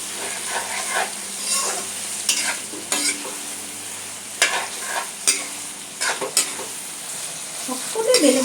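Onion and tomato frying together in a pan for a jackfruit curry, a steady sizzle broken by frequent clinks and scrapes of a spoon stirring the mixture.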